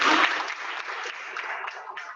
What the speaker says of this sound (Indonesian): Sekali lagi selamat, tepuk tangan kepada adik-adik.